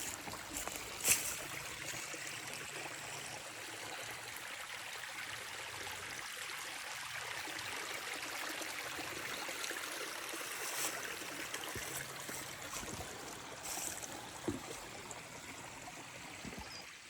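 The Manistee River flows with a steady, soft wash of running stream water, a constant gentle rush throughout with a couple of faint knocks, and no voices.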